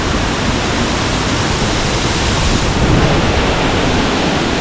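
Middle Falls at Ng Tung Chai, a loud, steady rush of falling water heard close up, broad and constant with no pauses.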